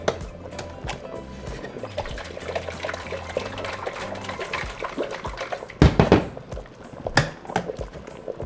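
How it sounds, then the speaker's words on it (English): Water is poured from a measuring cup into a blender holding chile for menudo, a running liquid splash with a louder gush partway through, recorded close in a home kitchen with no talking. "And I'm going to add 1 cup of water into my blender so we can get all of our chile"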